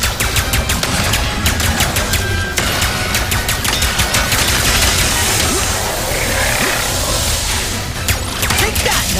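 Rapid bursts of gunfire from the Ratchet and Clank: Rift Apart video game crackle in dense repeated volleys, loud and continuous, with sharp shots standing out over a busy background of game effects.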